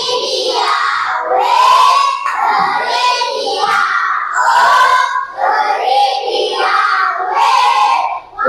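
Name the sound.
schoolchildren clapping and cheering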